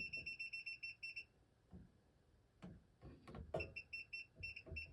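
A circuit breaker finder receiver beeps in a steady run of short, high electronic pulses at close range, drops out for a few seconds amid handling clatter, then resumes its rapid beeping.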